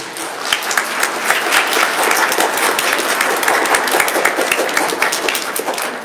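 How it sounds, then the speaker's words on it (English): Church congregation applauding during a Third Sunday of Advent Mass honoring Our Lady of Guadalupe: dense, steady clapping from many hands fills the room, loud and continuous throughout with no voices. "Those applause certainly aren't for me, but for the people who put this all together."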